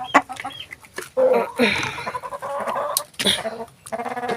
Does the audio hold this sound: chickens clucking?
yes